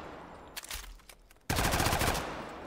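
Ripper weapon firing in the video game Off The Grid, a nail-gun-like arm weapon: a few scattered sharp shots, then a loud dense burst of rapid repeated firing that runs to the end.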